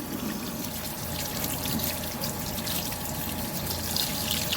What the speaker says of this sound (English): I'm just giving them a next wash, as I wash them when I pick them.